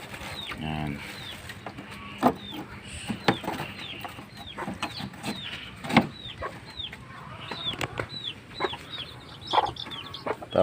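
Clucking chickens on a farm, with one hen and newly hatched chicks among the flock, sound in repeated short calls and squawks at close range, with faint background speech.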